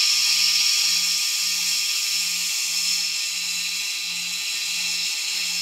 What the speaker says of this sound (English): What I'm going to do is just RPM test the motors.